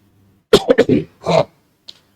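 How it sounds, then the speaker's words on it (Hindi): A person with a cold coughs and clears the throat indoors, a short burst of harsh coughs followed by one more cough and a faint final catch, close and fairly loud with no talking. "आपको पता होगा कि खांसी भी चल रही है"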